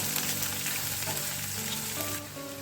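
Green chillies and onions fry in a pan for rice rava upma, giving a steady, close sizzle that stays level throughout and drops slightly toward the end, with no talking.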